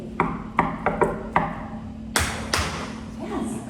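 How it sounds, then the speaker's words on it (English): Secret knock rhythm tapped out sharply: a quick syncopated run of five close taps, a pause, then two louder knocks, with a faint voice in the background. "It was the secret knock to our hideaway."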